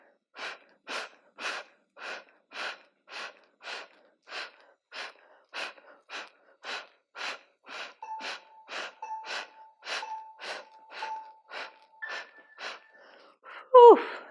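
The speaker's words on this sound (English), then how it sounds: "Exhale through the mouth. Find your power in the breath there." Forceful rhythmic yoga breaths exhaled through the mouth, a long run of evenly spaced breathy huffs close to the ear, ending in a louder final burst, with no speech.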